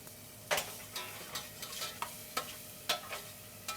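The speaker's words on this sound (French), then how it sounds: "on va faire revenir l'oignon avec de l'huile d'olive" Onion and garlic sautéing in olive oil for a risotto, a quiet low sizzle punctuated by regular light scrapes and taps of a spoon stirring in the pan.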